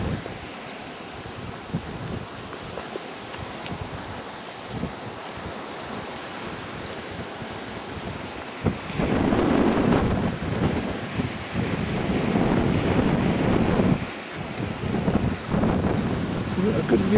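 Ocean waves break and wash against rocks off St Mary's in the Isles of Scilly, swelling into a louder surging rush midway over constant wind buffeting the microphone, with voices faintly present.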